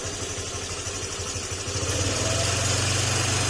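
A motorcycle engine idling after its backplate repair, a close steady mechanical thrum that grows a little louder and smoother partway through, with no talking.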